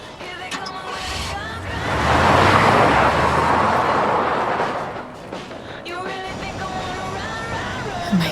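A car drives in the Life Is Strange: Before the Storm video game, its engine and road noise swelling into a steady passing roar mid-clip, while voices talk over the start and end.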